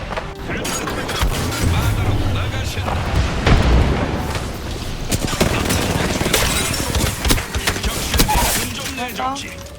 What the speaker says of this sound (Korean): 클러스터 발사.